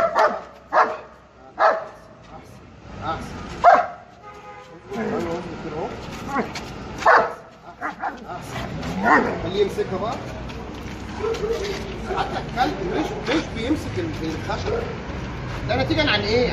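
A trained guard dog barks in sharp, repeated bursts, loud and close, spaced over the first half, then continues amid busier noise as people talk over it.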